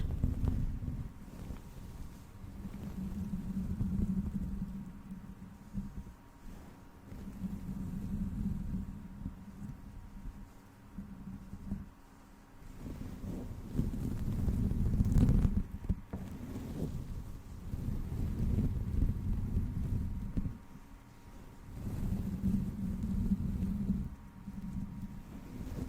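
Close, soft scratchy strokes of a brush working knots out of hair, coming in repeated rhythmic bursts with brief quiet pauses between them.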